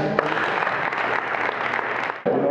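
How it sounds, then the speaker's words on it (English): A crowd of families applauds cadets at a graduation ceremony, steady dense clapping that fills the space from start to finish with only a brief dip near the end. "I'd like to have another warm round of applause for the cadets and the families."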